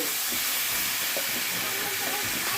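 Duck meat braising in a pan with cardamom, cinnamon and black pepper, a steady close hiss and sizzle throughout with no talking.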